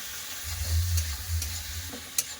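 Chopped tomatoes with salt fry and get stirred in a hot pan: a low, rumbling sizzle swells and eases while a spatula scrapes, with a sharp click near the end.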